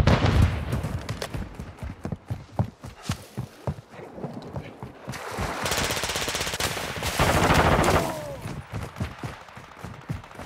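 Gunfire in Call of Duty Modern Warfare II, with dense bursts of automatic rifle shots and scattered single cracks at close and mid range, plus sustained rattling volleys over background battle noise.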